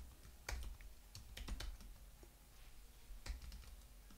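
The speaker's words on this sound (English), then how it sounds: "I'm just going to type in the Gauge init command." A command is typed on a computer keyboard in short bursts of close, crisp keystrokes with pauses between them. The typing is fairly quiet, with no talk.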